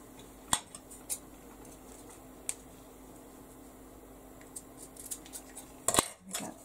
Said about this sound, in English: So I'm just going to cut my ribbon.